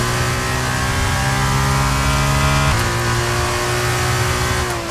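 A Formula 1 car in the racing game F1 23 screams at high revs, its sustained tonal engine whine dropping briefly midway as if shifting gear, then climbing again, loud and alone.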